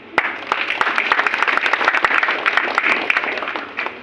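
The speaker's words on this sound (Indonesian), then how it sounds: "Tepuk tangan." A crowd claps at a political rally backing the Prabowo-Gibran campaign. The applause is lively and uneven, with sharp individual claps standing out over a steady mass of clapping.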